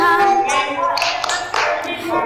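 Children's voices sing a cheerful action song while hands clap along in a few sharp, rhythmic bursts, a classroom group joining in over an online Zoom call.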